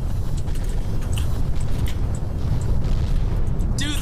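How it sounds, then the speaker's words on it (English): Video game explosions in How Not To Train Build, a continuous heavy rumbling boom with crackling bursts on top, loud and sustained, with a sharp ringing effect near the end. "Dude, the explosion sounds."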